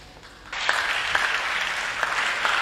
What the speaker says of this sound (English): that's a mixture of applause and encouragement to try and clap along to this shooting final